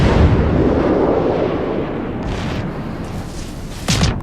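Naval gun salvo from the destroyer Shiratsuyu in World of Warships, a broad rumbling roar that fades, then a sharper burst of fire near the end, with no talking.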